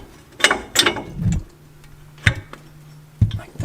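A ratchet wrench removes a nut from a steering stabilizer bolt on a 2017 or later Ford F250/F350/F450 pickup, making a few close, sharp clicking and ratcheting bursts separated by short pauses.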